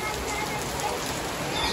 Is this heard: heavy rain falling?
yes